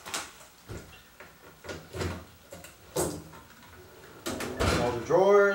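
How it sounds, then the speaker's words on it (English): Drawers of a US General 26-inch metal tool chest slide open and shut repeatedly with short rattling thuds and clacks, followed by a voice talking at the end. "All the drawers, make sure they're closed and open just fine."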